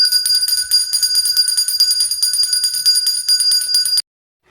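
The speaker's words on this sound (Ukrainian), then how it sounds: "На останній ваш урок прозвінить шкільний дзвінок." A school electric bell rings continuously with a bright metallic trill at a last-bell ceremony, loud and steady for about four seconds before stopping abruptly, with no talk over it.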